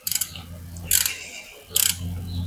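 Ratchet snugging down a valve cover bolt on an LS engine, three short bursts of quick clicking spaced about a second apart, close and crisp over a low background hum.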